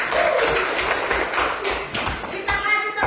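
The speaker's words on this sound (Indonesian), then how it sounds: "Tepuk tangan dulu." Students in a classroom clap together in a brief burst of applause, a dense patter of hand claps under some background chatter, fairly close and steady for a few seconds.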